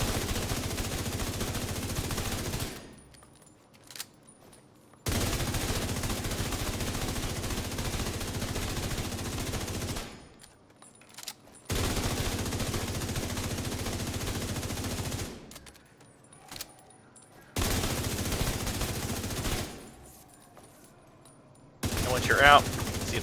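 Long sustained bursts of automatic fire from the St. Elmo's Engine exotic assault rifle loaded with shock bullets in The Division 2, four dense rattling volleys of several seconds each separated by quiet pauses, loud and close.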